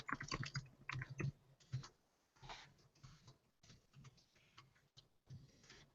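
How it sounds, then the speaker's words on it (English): Someone types on a computer keyboard in quick, irregular bursts of close, faint key clicks separated by short pauses, with no talk. "just typing in"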